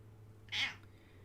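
A single short cat meow, fairly close and clear, stands alone over a quiet steady background hum.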